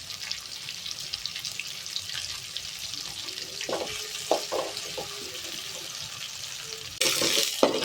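Eggplant and other kuzhambu ingredients sautéing in a pan make a low steady sizzle with a few scraping stirs midway, then a brief louder hissing burst near the end.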